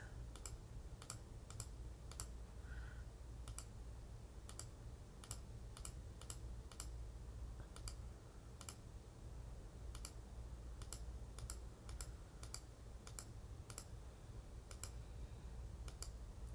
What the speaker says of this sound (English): So I'm going to start clicking on these.